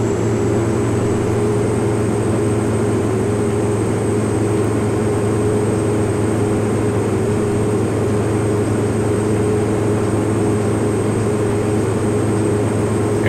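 Steady, continuous drone of a Pilatus PC-12 turboprop engine at takeoff power in X-Plane 11, a loud unbroken hum with a thin high whine on top, no talk over it.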